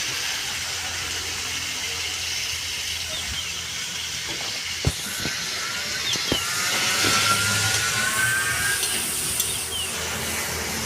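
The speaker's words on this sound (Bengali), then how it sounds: "একই তেলে পটলটা দিয়ে দেবো" Pointed gourd (potol) sizzles in the same hot oil on a home stove, giving a steady, fairly quiet hiss with a few sharp clicks and a slight swell in the later part, and no talking.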